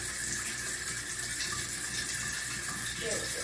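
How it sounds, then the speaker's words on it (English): Bar soap rinsed under a running tap at a sink, a steady close hiss of flowing water that holds evenly throughout with no voices. "Before using the bar soap, we should first rinse it."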